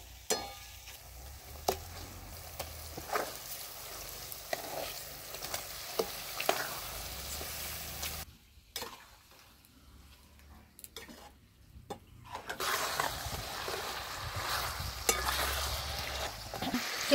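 Chutney masala roasting in hot oil for a coconut milk chicken curry, a steady close sizzle with scraping stirs and clinks that briefly quiets near the middle before resuming at full strength.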